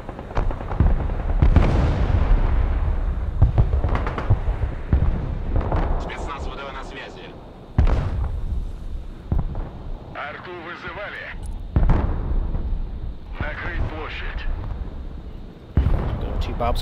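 Artillery fire in the Broken Arrow video game, with repeated booming blasts and crackling impacts spread through the scene at irregular intervals, while voices talk over the battle noise.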